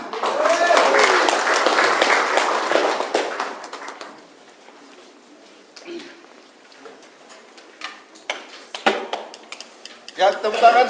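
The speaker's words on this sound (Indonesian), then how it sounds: "tepuk tangan sekali lagi buat Bapak Agus" A crowd at a business product launch bursts into loud applause for about four seconds. Scattered claps, clicks and voices follow at a lower level, then a few louder bursts come near the end.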